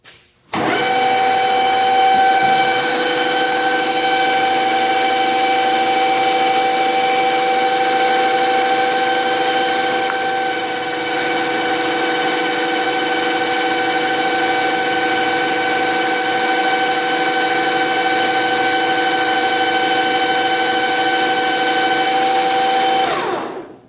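A Harrison M300 metal lathe cutting about 62 thousandths off a steel diameter, running as a loud, steady whine with strong harmonic tones that starts abruptly, holds for over twenty seconds, then stops.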